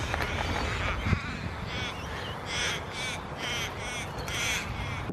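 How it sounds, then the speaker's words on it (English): A black crow caws repeatedly and loudly, a series of harsh calls in uneven bursts close by, with no talking over them. "they say seeing a black crow can often be bad luck."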